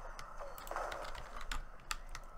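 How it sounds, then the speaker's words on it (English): Quick, light clicks and taps on a computer keyboard during a Black Ops II Zombies game, close and fairly quiet over a low background hum. "Honestly, it is actually harder playing on a keyboard."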